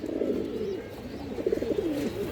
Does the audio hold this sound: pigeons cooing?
yes